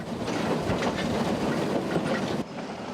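A train running on a forest railway line that serves forestry and beekeepers, with a steady loud rumble of wheels on track and rhythmic clickety-clack, continuous and up close with no talk.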